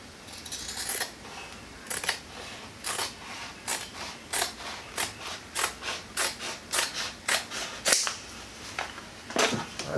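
Scissors cut through upholstery material for a DIY Camaro knee pad in a steady run of rhythmic, close snips, loud and unaccompanied by speech.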